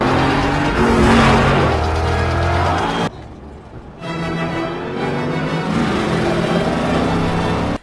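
Police car and other vehicles in a chase scene from the 2006 film The Marine, revving engines with shifting pitch as cars race past, a brief drop to near quiet midway, then the engine roar resumes.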